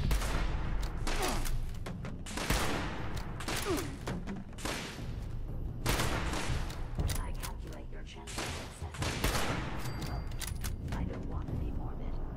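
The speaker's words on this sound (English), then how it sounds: "who's shooting at me?" Gunfire in Fallout 76, loud clustered bursts of shots with heavy impacts and thuds, nearly continuous across the stretch, close and intense.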